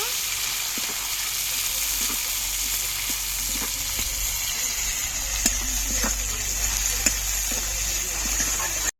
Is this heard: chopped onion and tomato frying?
yes